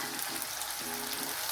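Tomatoes with asafoetida sautéing in a pan for a cauliflower stir fry, a steady close frying hiss with soft stirring scrapes, no talk.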